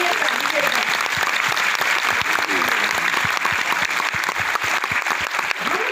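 Loud, dense applause from a seminar audience, continuous throughout with crisp individual claps standing out and a few voices mixed in.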